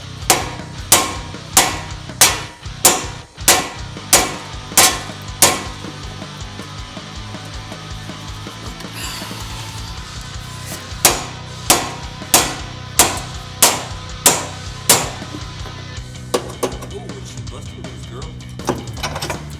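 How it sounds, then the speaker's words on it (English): Sharp metal hammer blows strike the control arm of an Integra during axle removal, landing in a steady rhythm of loud, close hits, pausing briefly, then resuming in a long run. "we're going to hit this thing as hard as we can for as long as we can"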